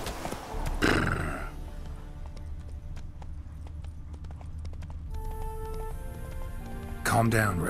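A horse whinnies loudly near the start and again at the end in The Witcher 3 video game, with hoof clops and a low rumbling background between.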